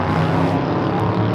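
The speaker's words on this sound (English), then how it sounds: "Atlas Air Flight 8557. It's a 23-year-old 747-400 freighter heading over there for a takeoff next" A 23-year-old Boeing 747-400 freighter of Atlas Air rumbles near LAX with a steady, broad jet roar that stays loud through the whole short moment, with no voices.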